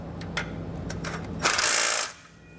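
A ratchet with a 13 mm socket tightens a bolt on a 2019 GMC Sierra 3500 while an Air Lift LoadLifter 7500 XL air helper spring kit is installed. A few spaced clicks lead into a quick loud burst of ratcheting, then it stops.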